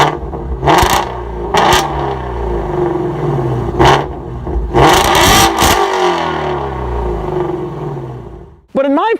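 Ford Mustang Shelby GT350R engine revving hard in sport mode, a series of loud, near blips and sustained roars with rumbling idle between them, ending in a sharp rising rev.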